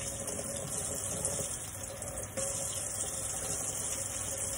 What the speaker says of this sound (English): We're going to rinse this with hot water.